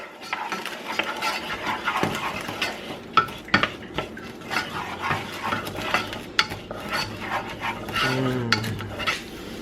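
Diced jalapeno pepper sautéing in a pan, a soft continuous sizzle under frequent close scrapes and taps of a stirring utensil against the pan, with no talk.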